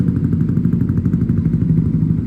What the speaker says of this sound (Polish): Zaraz on go trochę przegazuje, niech się troszkę rozgrzeje.